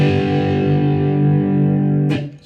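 A cigar box guitar with heavy distortion plays a riff, holding a loud, buzzing, sustained chord before a sharp pick attack shifts to a new note near the end.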